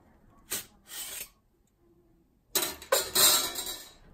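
A plastic grate slides off the filter of a Valentino Gen 4 dust extractor: two short scraping rasps, then a longer burst of rubbing and clattering from close by, with no talking.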